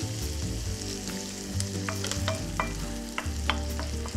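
Oil sizzles steadily in a pan as chicken curry is cooked, with occasional stirring knocks and scrapes over a continuous close hiss and a low background hum.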